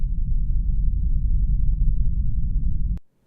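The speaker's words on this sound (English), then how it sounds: "we are going to search freesound.org for a sound called Space Rumble" A Space Rumble sound effect from freesound.org: a dense, loud, steady low rumble that holds evenly for about three seconds, then cuts off abruptly, leaving brief silence.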